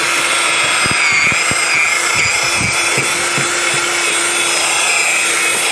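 A cordless electric drill keeps mixing Nutella vanilla variegate ice cream in a continuous, loud motorized whine. Scattered knocks and scraping clicks sound under the steady hum.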